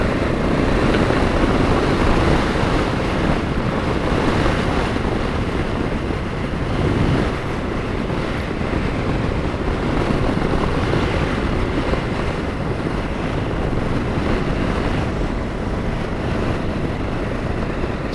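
A BMW F650GS motorcycle rides along mountain backcountry roads, heard as steady, loud, broadband wind rush buffeting the microphone with a low engine drone underneath and no talking.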